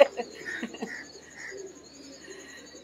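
Pigeon cooing in a breeder's loft in Karachi, soft low coos repeating a few times near the microphone, with faint chirps behind.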